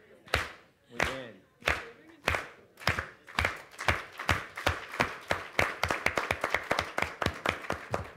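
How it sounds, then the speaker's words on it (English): An audience at a worker cooperative conference clapping in unison to call for quiet, starting as a few loud, spaced claps and quickly building into a fast, steady rhythmic clapping from many hands. "She's like, clap, make everyone shut up."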